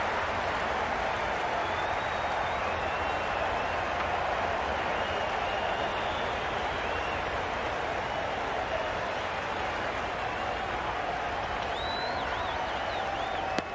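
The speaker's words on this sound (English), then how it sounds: "The crowd are really getting quite raucous." Steady, dense crowd noise fills a cricket stadium in a Cricket 22 Ashes match, a continuous roar of applause and cheering with no break, heard alone at even loudness.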